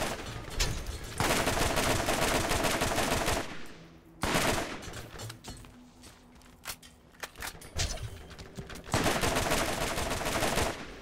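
Machine gun fire in a video game: loud sustained bursts of rapid automatic shots, broken by short pauses and quieter stretches with scattered clicks, then another long burst near the end.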